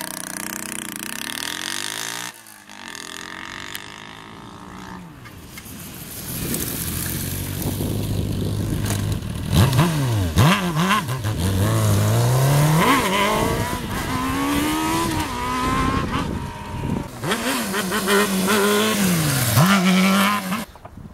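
A Honda Hornet motorcycle revs hard during wheelie practice, its engine climbing and falling in repeated loud surges near the microphone, with wind buffeting in between.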